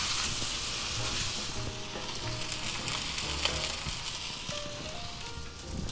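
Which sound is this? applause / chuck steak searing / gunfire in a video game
chuck steak searing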